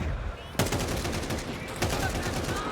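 Sniper rifle shots in a Counter-Strike match at a major tournament, two sharp loud reports about a second apart over steady crowd and game noise.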